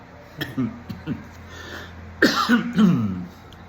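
Several short coughs and throat-clearing bursts, close to the microphone, come in two small clusters with brief pauses between.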